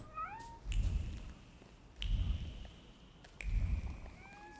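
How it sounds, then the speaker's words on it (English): A cat in The Thaumaturge video game gives three low, rumbling purr-like bursts at a steady pace, close and fairly loud, with faint high whistling tones from the game drifting between them. "There's a cat. Purring real loud."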